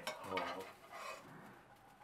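Shrimp fried rice scooped from a pan onto a plate, with a run of soft scraping and clinking of utensil against cookware, close and moderately quiet, with no talking.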